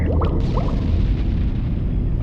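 A rocket launcher explosion in the shooter game Serious Sam HD: a loud, close blast with a heavy low rumble that rolls on and slowly settles, heard alone without talk.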